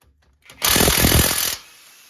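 Power tool loosening a 22mm brake carrier bolt on an MK5 GTI: one loud, close burst of rattling impact hammering lasting about a second, then quiet.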